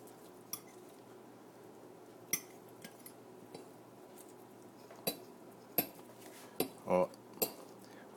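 A fork cuts a Swiss cheese omelette on a plate, giving scattered sharp clinks and taps of metal on the dish, some spaced seconds apart and a quick cluster near the end, faint and mostly alone.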